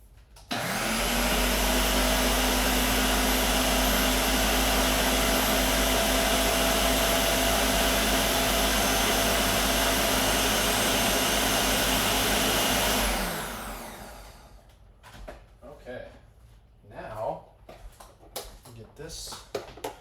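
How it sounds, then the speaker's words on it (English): A blender roars at full power for about twelve seconds, then cuts off, leaving clatter and faint movement sounds. "I'm going to go pulse this one more time"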